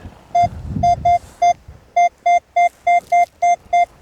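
A metal detector in a ploughed field gives a run of short, evenly pitched electronic beeps in a steady pulsing rhythm, with faint rustling underneath.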